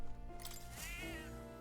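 Cat in the video game Metaphor giving a single drawn-out meow over steady game music, fairly quiet, no talking.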